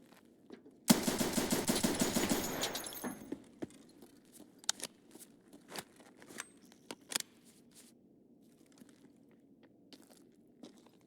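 Pistol gunfire in the game Escape from Tarkov comes as a dense burst of shots for about two seconds. Scattered single cracks and clicks follow, with quiet gaps between them.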